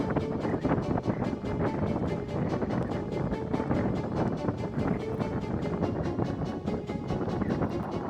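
Strong wind buffeting the microphone on a snowy Cold Fell in the North Pennines during a winter hike, a loud, steady roar with gusty rumble throughout.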